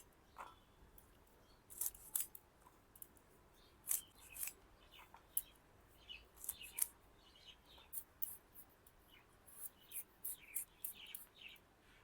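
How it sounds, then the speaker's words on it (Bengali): Lochu, a vegetable, being cut for an oil-free Bengali gudok recipe: faint, close, irregular snipping clicks in a quiet kitchen. "এখন লচ্চুটি কেটে নেবো"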